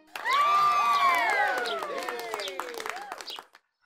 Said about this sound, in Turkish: Bir alkış tufanı kopmuş.